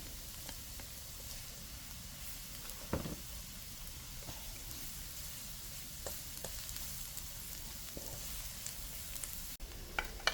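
Ginger and garlic sizzling in a frying pan, a soft continuous hiss with occasional light clinks of stirring, quiet and steady throughout.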